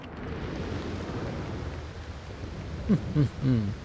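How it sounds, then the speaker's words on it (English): Steady rain and rumbling thunder in the video game Aloft form a dense, continuous wash, with a short burst of voice near the end. "Ah, still raining, huh?"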